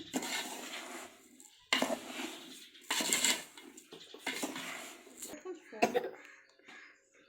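Rava laddu mixture with cashews and ghee is stirred in a metal vessel, giving several short bursts of scraping and clinking separated by pauses, while a voice talks and coughs nearby.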